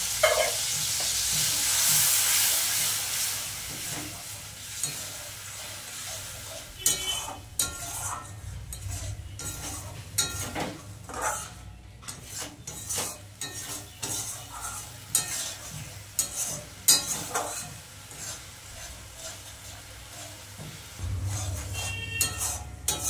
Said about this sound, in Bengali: সর্ষেটা দিয়ে বেশিক্ষণ কষাবো না।